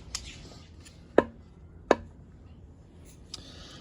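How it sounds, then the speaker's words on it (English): A budget fixed-blade knife strikes a plastic bottle with two sharp, loud whacks about a second apart. Faint knocks and rustling come before and after the blows. "Will it cleave a bottle though?"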